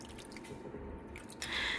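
Canned beef broth is poured over cabbage rolls in a baking dish, giving soft dripping and splashing liquid sounds, close and quiet, that turn into a brighter pouring trickle toward the end.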